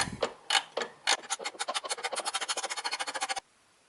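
A ratcheting spanner clicks in a quickening run of sharp ticks while loosening bolts on the fuel filter of a 1997-1999 Toyota Corolla 1.6L engine, close and alone, then stops abruptly.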